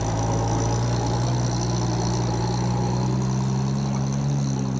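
A Willys jeep engine runs steadily at idle during a roadside repair at a Battle of the Bulge commemoration in the Ardennes, a continuous loud low rumble with no break or change in pace.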